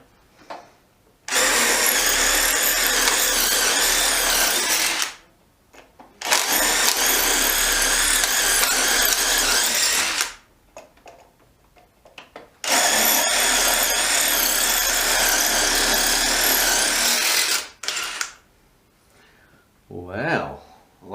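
A DeWalt DCF801 brushless 12V impact driver runs in several long bursts of loud hammering whir, separated by short pauses, with a voice heard between runs.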